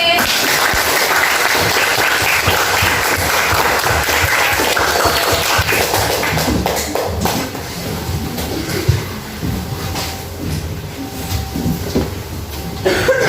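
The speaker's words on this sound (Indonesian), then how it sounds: "Tepuk tangan buat kelompok B." Classroom applause for a student group, loud and rattling clapping from many pupils that thins after several seconds into scattered claps and room noise.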